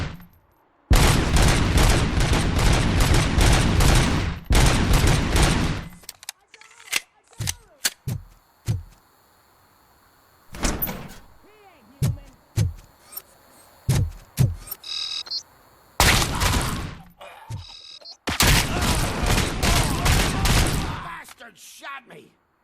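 In the video game RoboCop: Rogue City, loud automatic gunfire rips out in long bursts, with sharp single shots in between and gaps where voices briefly talk.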